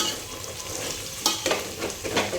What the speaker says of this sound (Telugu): ఇప్పుడు ఇవి బాగా ఫ్రై చేసుకోవాలి మాడు పట్టకుండా కలుపుకోవాలి మసాలా